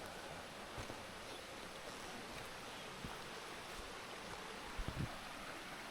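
A creek flows near a roadside campsite, giving a steady, faint wash of rushing water with a few soft bumps and no voices.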